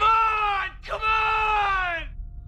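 A man in a film screams as loud as he can, two long strained harmonic cries split by a brief break, loud and close with no other voices.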